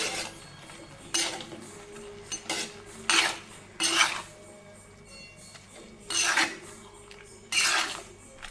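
Cooked eggplant is mashed in a metal pot: repeated scraping, clanking strokes of a utensil against the pot come in irregular bursts, close by, with no speech.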